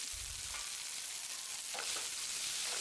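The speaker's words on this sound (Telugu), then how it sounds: "పెప్పర్ పొడిని వేసుకుని బాగా వేపుకోవాలి" Chicken frying in a pan with pepper powder for restaurant-style chilli chicken, a steady broad sizzle throughout with a few stirring scrapes near the end, no voices.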